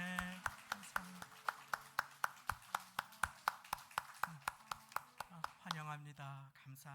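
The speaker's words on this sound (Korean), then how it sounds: "잠깐만 두 분 일어나 주시면 축복의 박수를 나누도록 하겠습니다" Church congregation clapping in blessing for a newly married couple during a Sunday morning service, a steady run of sharp single claps, fairly close, followed by talking at the end.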